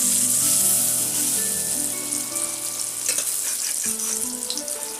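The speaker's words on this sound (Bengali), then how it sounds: "একটু কড়া করে ভাজবেন যাতে একটু মুচমুচে হয়" Bengali chapor ghonto fritters fry in hot oil with a steady, close sizzle and crackle that fills the whole stretch, alongside faint clinks and tonal kitchen sounds.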